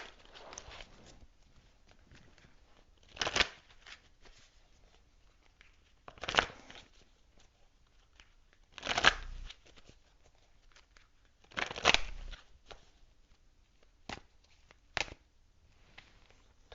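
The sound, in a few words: shuffling cards from a tarot energy deck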